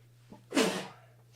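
A single sharp sneeze bursts out after a small intake of breath, loud and close, then fades quickly over a low steady hum.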